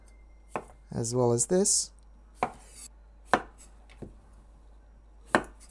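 Knife trimming the ends off cucumbers on a cutting board: a few sharp, isolated chops spaced apart, with a brief rustle of handling and a short spoken phrase in between.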